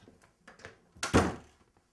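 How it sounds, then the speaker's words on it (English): A door is shut with one solid, close thunk. A few soft knocks and rustles come just before it, and quiet follows. "Close the door!"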